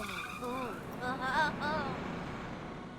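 In the video game Ice Scream 6, a car runs down the ice cream man, and a wavering, squealing screech of tires rises and falls over a low engine rumble, then fades.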